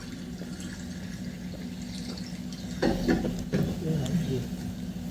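Holy water splashes and trickles as it is poured into a container of drinking water, a short gurgling pour over a steady low background hum, with people talking through the scene.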